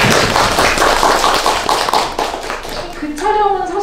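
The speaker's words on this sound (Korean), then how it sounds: "박수 한번 부탁드립니다." A burst of audience applause, many hands clapping loudly, fading as a voice begins speaking over it near the end.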